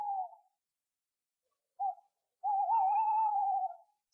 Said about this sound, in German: Der Kauz schreit noch lauter.